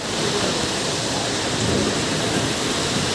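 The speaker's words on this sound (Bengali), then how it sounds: "মুসলধারে বৃষ্টি হচ্ছে" Heavy rain pours down in Sajek Valley, a dense, steady roar of rainfall that stays loud and unbroken throughout.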